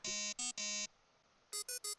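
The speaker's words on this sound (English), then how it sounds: "Yo, the thumb has a banger ringtone?" A phone ringtone in the video game Limbus Company: a short electronic melody of bright tonal beeps, three notes, a brief pause, then four quicker higher notes, clean and loud.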